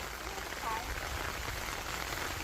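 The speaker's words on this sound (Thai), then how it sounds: "แต่ฝนมันตกห้ามเราไว้ก่อน" Rain falls steadily on a garden, a constant dense patter of drops on surfaces that holds at an even level throughout.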